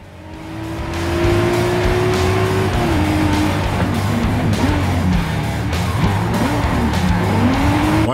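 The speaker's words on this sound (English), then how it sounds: "I finally nailed the power and I was able to get a full drift around this turn." A race car in Forza Horizon 5 drifts around a track turn, a steady engine drone with rising revs and a long, loud tire squeal through the slide, with no talking.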